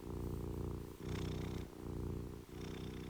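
A domestic cat purrs close by in a steady rhythmic rumble, each breath cycle marked by brief dips between rising and falling phases, with no talking.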